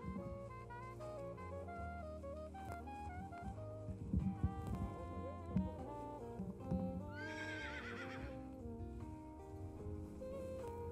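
Young Frisian horses neigh at an outdoor foal inspection, a loud whinny rising over a continuous, dense background of music, with a few hoof clip-clops and no talk.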